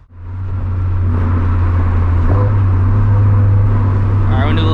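A catless Greddy turbocharged Subaru FRS engine idles with a deep, steady drone that swells into a sustained rev, loud and close, ending with some higher whine near the end.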